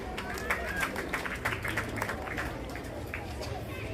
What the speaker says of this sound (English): Parents, I request we clap for the head teacher.